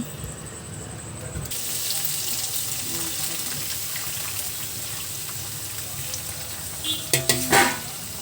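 Capsicum, carrot and other vegetables fry in oil for egg fried rice, a steady close sizzle with stirring scrapes and a few louder clanks near the end.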